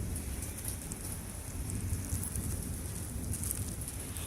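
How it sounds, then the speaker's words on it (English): Steady, breezy rain during a spring thunderstorm in Henry County, Georgia, a dense continuous hiss with low rumbling underneath, close and even throughout with no voices. "We got slightly breezy rain."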